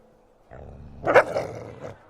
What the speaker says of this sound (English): There's a nice, angry, stray dog.